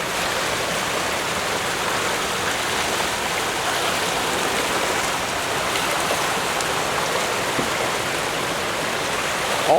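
Water rushing steadily down a stone-faced concrete fish ladder of stepped pools, a dense, loud, continuous roar and splash with no pauses.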